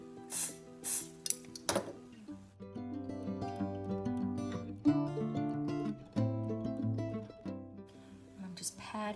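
An airbrush sprays foundation makeup onto a cheek in a few short, hissing bursts up close, followed by a voice speaking over tonal background sound.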